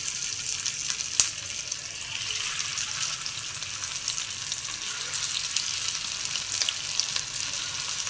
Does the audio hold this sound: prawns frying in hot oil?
yes